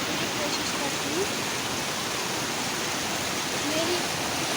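Plenty of water rushes steadily along a stream, a dense, even roar that fills the whole stretch without pause, close and continuous with no voices standing out.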